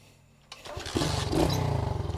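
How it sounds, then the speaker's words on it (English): A pit bike engine catches after a brief quiet stretch, then settles into a loud, close, pulsing idle with a rapid, even putter. "I guess we're going to see if this thing starts and idles."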